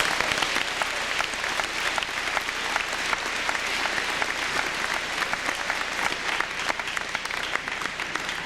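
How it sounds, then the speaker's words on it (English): A school audience at the Faribault High School awards assembly claps steadily, a dense, even patter of many hands filling the hall with no talking over it. "let's have a round of applause for Will Bremer"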